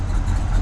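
A 1965 Pontiac GTO convertible's 389 V8 with tri-power idling warm at about 900 RPM, a loud, steady low rumble heard close and alone.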